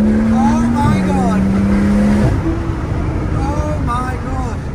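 A decat Porsche Turbo S with about 610 horsepower drones loudly and steadily from inside the cabin while driving, its pitch dropping briefly as the gear shifts, with people talking over it.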